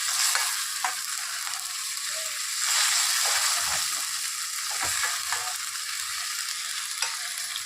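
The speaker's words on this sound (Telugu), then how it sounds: "ఇప్పుడు రొయ్యలు వేసేద్దాం." Prawns frying in a curry pan over onions, a loud steady sizzle with occasional stirring clunks and scrapes, close up and continuous, no speech.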